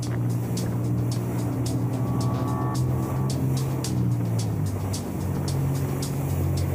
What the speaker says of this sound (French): Il faut arrêter ce Zodiac qui fonce droit sur la croisette.